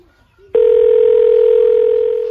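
A telephone line tone sounds during an outgoing call: after a short quiet moment, a loud steady tone at one pitch begins and holds without a break to the end.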